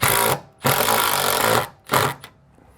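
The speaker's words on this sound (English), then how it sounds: "then we'll drill out those holes and shoot in some screws" A power drill driving screws into a MORryde telescoping RV handrail bracket on a 2022 Jayco, running in two long loud bursts with a short pause, then a shorter burst and a brief final blip, with no talk.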